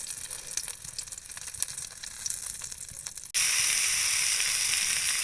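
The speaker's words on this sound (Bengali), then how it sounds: "আলুগুলো একটু ভেজে নিচ্ছি হালকা করে।" Potatoes fry gently in a pan for an egg and potato curry, giving a soft, crackly sizzle that suddenly jumps to a loud, steady hiss partway through.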